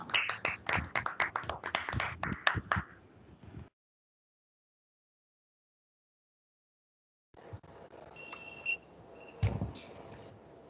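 Audience applause at a Hindi Diwas school assembly welcoming a child poet, a burst of clapping for about three seconds that cuts out, followed by faint room noise and scattered handling sounds.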